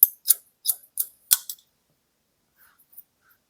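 Scissors snip through hair during a men's medium-long haircut, about five or six crisp close cuts in quick succession, then quiet with a few faint clicks.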